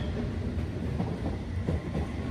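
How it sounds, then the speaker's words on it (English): A train passing at a distance outdoors, with a steady low rumble and faint rhythmic rail clatter that holds at an even level throughout, without voices. "Look at that train."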